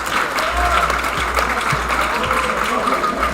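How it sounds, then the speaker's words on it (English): Audience applause at a historical fencing tournament finals, honouring sabre bronze medal fighters; steady dense clapping fills the hall at moderate distance, continuous throughout with faint voices beneath. "Give a round of applause."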